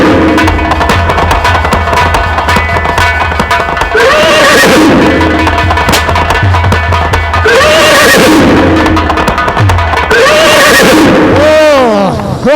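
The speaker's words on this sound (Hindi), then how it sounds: "इतना सुंदर घोड़ा भागा जा रहा है।" A horse neighing in repeated loud, shrill whinnies, with galloping and other commotion beneath, dense and busy throughout.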